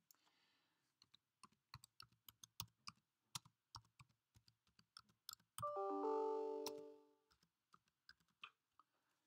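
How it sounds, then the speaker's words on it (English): Password typed on a computer keyboard: soft, close, irregular key taps in a steady stream, briefly interrupted by a sustained electronic tone before the tapping resumes. "I am going to type in my own password."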